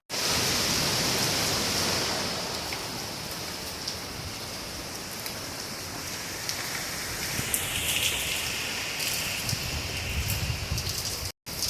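Heavy rain pours steadily in a dense, continuous hiss, loud and unbroken throughout with no voices.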